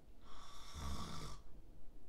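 A person imitates an old man snoring through the nose, giving one drawn-out, rasping snore in the middle of an otherwise quiet moment.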